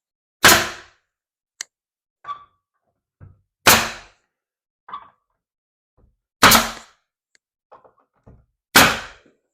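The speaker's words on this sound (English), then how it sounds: "Now it's time to finally nail it to the wall." Trim being fastened to a wall with a nail gun during a historical trim matching job: four loud, sharp shots at regular spacing, each trailing into a short decay, with quieter knocks and handling taps between them and no talk.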